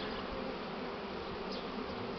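A swarm of honey bees buzzes continuously at the landing board of a hive, a dense, even drone close by with no voices.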